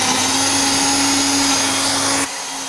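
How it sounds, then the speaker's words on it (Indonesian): An electric blender whirs steadily while blending sambal ingredients with chicken stock instead of water, a loud continuous motor drone that cuts off abruptly near the end, with no talk. "Kita blender."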